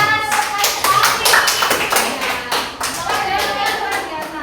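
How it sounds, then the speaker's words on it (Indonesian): A class applauds together in a quick burst of close hand clapping, with sharp irregular claps overlapping through the whole moment and no voices standing out. "Ya tepuk tangan sekali lagi."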